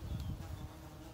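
Carpenter bees circling a pheromone-baited bee trap on a house give a brief, low buzzing hum close by, with no voices.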